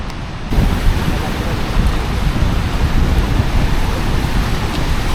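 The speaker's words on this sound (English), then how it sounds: "Here we are at the waterfalls that separate Vietnam and China. And they are pumping." Ban Gioc waterfall on the Vietnam–China border, swollen with weeks of rain, a loud, dense, constant roar of rushing water starting abruptly and filling the whole clip with heavy rumbling noise.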